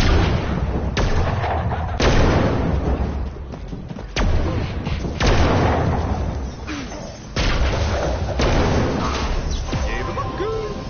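Repeated bomb spell explosions in the video game Magicka 2, loud booming bursts recurring every second or two over a dense, noisy game soundscape, with a voice speaking underneath.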